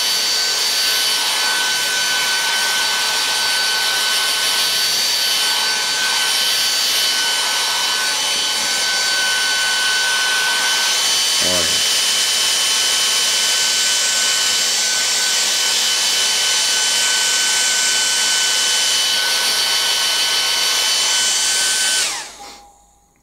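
Philips Active Cool 1650 HP3462 hair dryer running on a warm setting, a steady loud blowing whoosh that holds for about twenty seconds before the motor cuts off and winds down.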